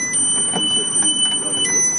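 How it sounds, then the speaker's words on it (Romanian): A defibrillator cabinet's high, steady electronic alarm tone rings continuously after the cabinet is opened, with faint voices talking in the background. "dacă se deschide cutia, începe să sune cu alarmă"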